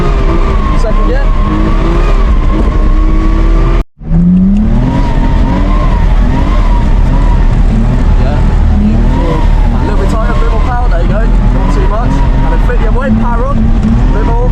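Car engine revving and shifting pitch while drifting on a track, loud and close with tire squeal, a brief cut near the start, and people talking throughout over the engine.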